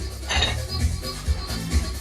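A pot lid and trivet being lifted away, sharp metallic clatters and clinks of cookware in quick succession, close by in a home kitchen.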